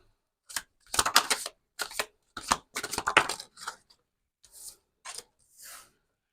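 A deck of tarot cards being shuffled by hand in several quick riffling bursts, separated by short silences, near and crisp.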